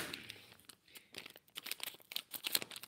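Crinkling plastic packaging being cut open with scissors, a quiet close run of irregular crackles, snips and rustles alone with no voices.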